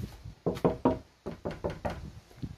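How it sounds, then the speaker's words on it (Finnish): Knocking from a roof sounds as a series of about eight dull, hollow knocks in irregular groups, fairly close, with a soft background hum and no voices. "Ihan koputuksen ääni."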